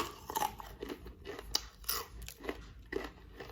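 Crunchy deep-fried bread sandwich bitten and chewed up close, with several sharp crackling crunches spread over a few seconds, no talking.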